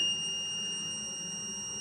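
A launch controller built around a big red button gives a steady, high electronic beep when its key is turned, one continuous tone that holds unbroken for the full two seconds over a low background hum.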